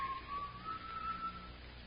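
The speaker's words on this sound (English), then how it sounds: "That whistling, I can't stand it, Roy." A faint, thin whistled tune wavers and rises over a muffled background in an old radio crime drama.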